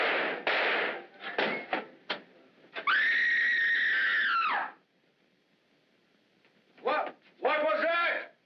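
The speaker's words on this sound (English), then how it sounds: "What was that? Who screamed?" A person screams in a long, loud, sustained shriek, with excited voices and sharp noises just before it and more shouting voices after a brief silence.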